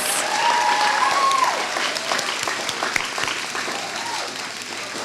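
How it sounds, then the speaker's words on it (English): An audience claps for the B Mitzvah students at a synagogue ceremony, steady applause throughout with a faint tone and murmur beneath. "Let's have one more round of applause for all of our B Mitzvah students."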